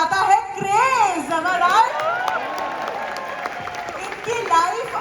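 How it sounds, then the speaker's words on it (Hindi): Audience clapping at a business coaching program stage event, a continuous ripple of applause running beneath a prominent voice. "तालियां रुकनी नहीं चाहिए"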